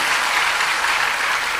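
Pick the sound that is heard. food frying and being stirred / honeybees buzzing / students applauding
students applauding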